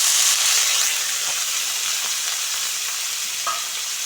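Chopped onion and green chilli fry in hot oil in a pan, giving a steady broadband sizzle that fades slightly over the stretch, with a few faint stirring clicks and no voices.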